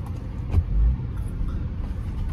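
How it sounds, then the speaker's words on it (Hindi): A car comes past along a city street in Delhi, a low rumbling engine swelling briefly near the start and then settling into steady traffic noise, with no talking. "अभी गाड़ी आ गई आगे से"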